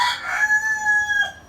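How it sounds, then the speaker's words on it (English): A rooster gives one loud, close crow, a drawn-out tonal call that holds steady and then drops off at the end; no voices. "oh, chicken"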